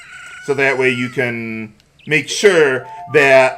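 A rooster crows at daybreak in the video game Ocarina of Time, a loud, close, stretched cock-a-doodle-doo heard in separate bursts while someone talks over it.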